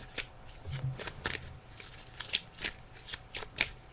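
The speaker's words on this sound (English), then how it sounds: "So as you can hear, I'm just shuffling the cards." Tarot cards are shuffled close up in a quiet room, a run of soft, rapid riffling flutters and taps repeating in uneven bursts, with no voices.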